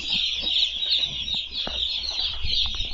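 Day-old chicks, one of 3000 being settled in on a poultry farm, cheep in a dense, steady chorus of high peeping, close and continuous with no talk over it.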